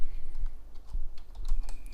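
Quick keystrokes on a computer keyboard spell out a name in a steady, slightly uneven patter, close and fairly loud over a low background hum, with no voices.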